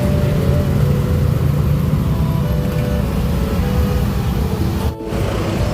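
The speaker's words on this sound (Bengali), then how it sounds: "কিন্তু গাড়িগুলোতে প্রচুর সাউন্ড।" Street traffic in Aizawl, a continuous dense rumble of car and bus engines passing close by, loud and steady with no horns or voices.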